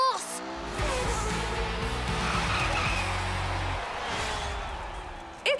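Hot Wheels cars race through Hot Wheels City, engines droning while tires skid and squeal continuously for several seconds, loud and close, with a brief vocal sound at the very start and end.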